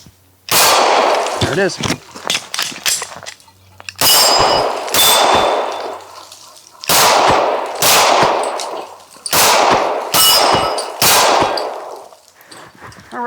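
Glock pistol fired in rapid strings at steel targets, loud sharp shots with ringing metallic clangs, grouped in several bursts separated by brief pauses, with someone speaking briefly in between.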